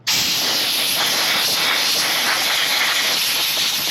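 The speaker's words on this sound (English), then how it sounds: "I just use air to clean these up when they're not horribly dirty" Compressed air blasting dirt off a Harbor Freight Atlas chainsaw, a loud, steady, close hiss that starts abruptly and holds without a break.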